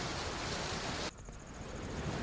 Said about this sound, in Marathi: मुसळधार पावसामुळे साल्हेर किल्ला परिसरात धबधबे प्रवाहित झालेत।